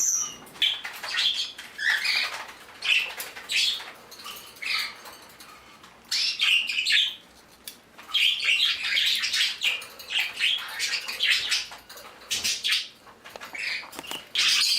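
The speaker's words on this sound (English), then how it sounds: "Canaries love to bathe first thing in the morning." Pet canaries chirp and tweet in the morning indoors, bursts of bright, busy song that come and go in clusters with short pauses, fairly close and lively, without any voices.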